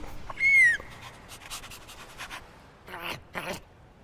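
A dog in the Minecraft: Story Mode video game pants and whines up close, with a short high whimper followed by bursts of quick breathy panting.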